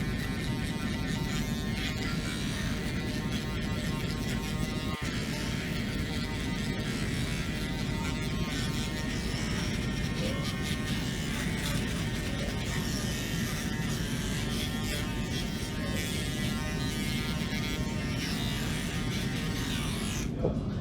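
A steady electric shaver buzz runs without a break while trimming a beard in a barbershop, close and even, with no other sounds on top.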